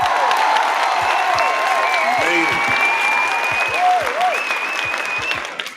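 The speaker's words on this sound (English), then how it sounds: "give yourselves a round of applause" An audience bursts into steady applause and cheering at a live show, loud dense clapping sustained throughout with whistles on top, while someone speaks briefly over it.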